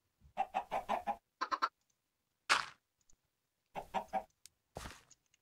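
Chickens in the video game Minecraft, several bursts of short rhythmic clucks with brief quiet gaps between them, plus a couple of sharper flutter-like sounds.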